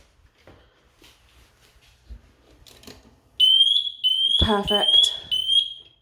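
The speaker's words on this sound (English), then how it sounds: "So I'm just going to test these smoke alarms." A smoke alarm sounds during a test in a house, loud repeated high-pitched electronic beeps starting partway through, preceded by quiet movement and a brief spoken word.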